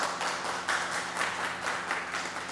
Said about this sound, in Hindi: तो एक बार सैनिकों के लिए ताली बजा दीजिएगा।